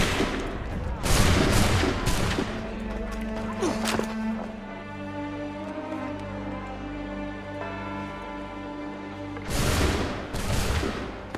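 Gunfire in Assassin's Creed III: a loud burst of several near-simultaneous musket shots at the start, a quieter stretch with music, then another ragged volley near the end.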